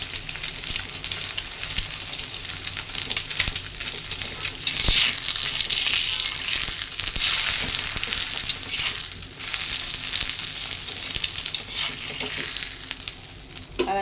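Eggs frying in a pan give a continuous close, loud sizzle and crackle that swells and thins over several seconds, with a few utensil taps against the pan.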